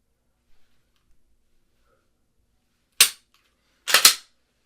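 Pistol shots at multiple targets on a range: one sharp crack after a quiet pause, then a quick close pair of loud shots about a second later, with faint small clicks before.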